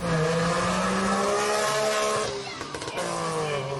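A light Melkus sports car with an unusual 103-horsepower three-cylinder two-stroke engine revs loudly, its buzzing pitch sliding up and down, before a rough burst near the end. No one speaks.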